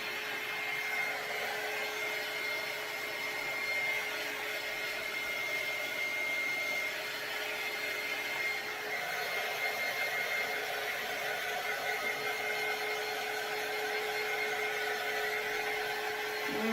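A handheld dryer runs in a steady, continuous whir, close and even, drying the paint on a DIY Mardi Gras fleur-de-lis door hanger, with no talking.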